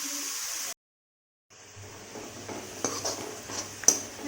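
Chana dal being stirred and roasted in a pan before greens are added, giving soft scraping and light clinks of a utensil against the pan over a faint steady sizzle, broken by a short silence near the start.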